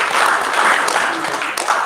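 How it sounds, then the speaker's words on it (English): A round of clapping from delegates at a political parties and stakeholders summit opening session, loud and dense, filling the hall for a couple of seconds. "Please, can we give him another round of applause?"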